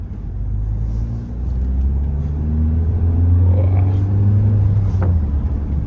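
Mahindra XUV700 AX7 diesel SUV with manual gearbox accelerating hard in sports mode, a steady loud engine drone with rising rumble and harmonics climbing in pitch as speed builds, heard from inside the cabin with no talk.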